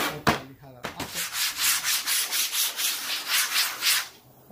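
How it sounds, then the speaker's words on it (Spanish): Sandpaper rubs back and forth across a cardboard door panel, a steady run of about a dozen close, rhythmic scratchy strokes with a couple of sharp knocks at the start. "Le pego una lijada acá."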